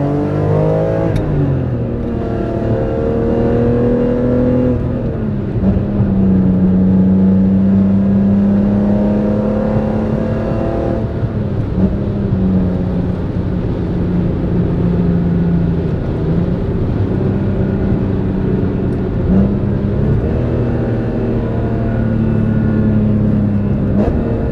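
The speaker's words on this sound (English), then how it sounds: "Now here's some downshifts." A BMW E46 M3 with SMG transmission revs during downshifts, its engine droning loud and steady from inside the car, with pitch climbing and settling as each downshift catches, over about twenty-five seconds.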